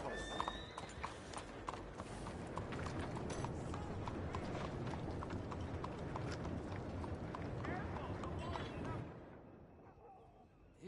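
Hooves of a skinny horse in a PS4 video game clip-clop in a dense, steady stream, close and fairly strong, with a whinny and scattered game sounds, before the hoofbeats fade out near the end.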